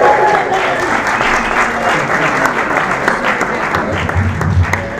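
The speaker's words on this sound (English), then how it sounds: "give them a round of applause here" A theater crowd claps in a continuous burst of applause, loud and close, with a few voices and cheers mixed in under the clapping.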